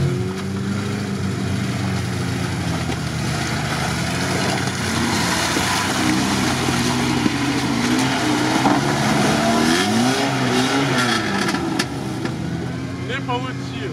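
A GAZ-66 off-road truck engine runs continuously during an off-road battle, a steady loud drone with rising and falling revs, while people talk over it.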